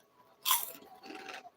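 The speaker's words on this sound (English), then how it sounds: "Y'all hear that crunch?" Crunchy food being bitten and chewed during a late chicken dinner, one loud close crunch followed by a softer second crunching chew, with no talking.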